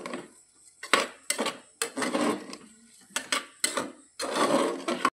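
Soaked rice tipped into a cooking pot for masala rice is stirred in a series of distinct scraping, rattling bursts, each lasting about half a second with short pauses between, close and fairly clear without speech.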